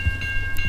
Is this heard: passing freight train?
yes